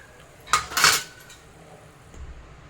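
A spoon scrapes and clanks against a pan as fried spices are lifted out of hot oil, two close metallic bursts followed by a faint low-level background.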